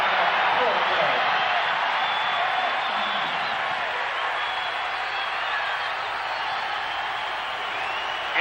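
Basketball arena crowd at a 1990 Missouri Valley Conference championship game, SIU against Illinois State, roaring in a loud, sustained wall of cheering that stays nearly constant throughout.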